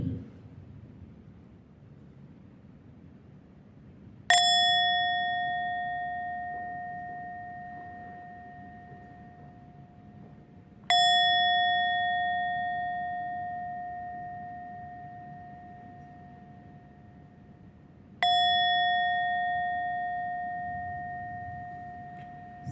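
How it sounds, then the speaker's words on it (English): A meditation bell is struck three times at roughly even intervals, each bright metallic strike ringing out clearly and decaying slowly into near silence before the next, with faint room tone between. "I open my eyes gently with the sound of this bell."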